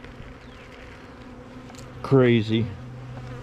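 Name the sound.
bees buzzing around kept hives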